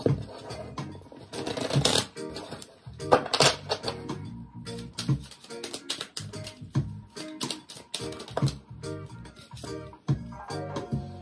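Tarot cards riffled and shuffled by hand in repeated bursts of crisp flapping and snapping, close and fairly loud, with short pauses between shuffles and no talking.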